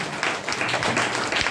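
An audience at a gathering breaks into brief, lively applause, a dense patter of many hands clapping at close range.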